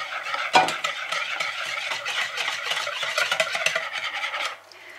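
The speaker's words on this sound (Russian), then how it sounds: "Хорошо перемешиваем." Whisk scraping and clinking around a bowl as a milk and melted butter mixture is beaten into eggs for Belgian waffle batter, a quick continuous rhythmic stirring, close and clear, easing off at the end.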